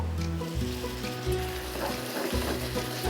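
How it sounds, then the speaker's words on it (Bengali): Beef sizzling steadily in a pot while being stirred for beef tehari, a continuous close frying hiss with low bubbling undertones and occasional scraping shifts, no talking. "মাংসটা আমি আবার একটু নেড়ে দেব।"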